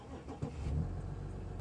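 Audi SQ5 with a V6 diesel engine idling, a low steady rumble with a brief throaty swell near the start, heard close and without talking.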